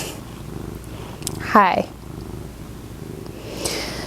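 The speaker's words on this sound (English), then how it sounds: "Thank you for purring right into the microphone." A house cat purrs close to the microphone as a soft, continuous low rumble, with a brief louder chirpy vocal burst in the middle and a person saying a short greeting.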